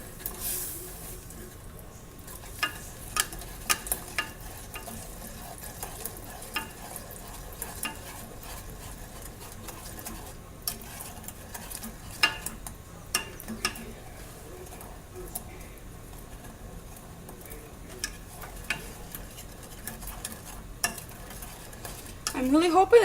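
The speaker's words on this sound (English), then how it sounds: "And then I'm just going to stir and bring it to a boil." A spoon scrapes and clinks against a pot while stirring water and ingredients over heat toward a boil, soft, irregular taps scattered over a quiet, faintly hissing background.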